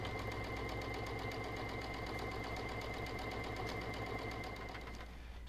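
A sewing machine runs steadily at close range, stitching a fabric tool tab for a gadget stand, with a rapid, even mechanical chatter that holds throughout and eases slightly at the very end.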